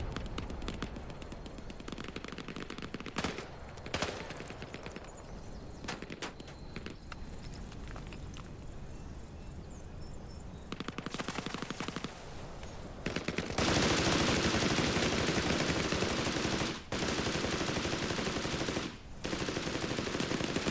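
Machine gun suppression fire in Hell Let Loose Vietnam, sustained dense bursts of automatic gunfire filling the clip, growing louder and nearer toward the end with brief gaps between bursts.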